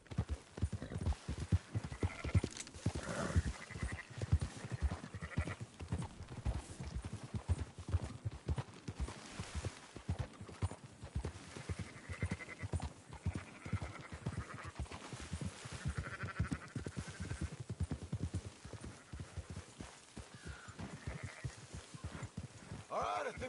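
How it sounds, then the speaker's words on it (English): In Red Dead Redemption 2, horse hooves clip-clop steadily and close under repeated sheep bleats, while voices talk over the herding. "Marston, why don't you leave the sheep to me?"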